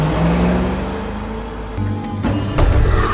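Cars pass suddenly in a horror video game, with engine drones and whooshes rising and falling over a few seconds, loud and close, ending in a louder surge, no talk.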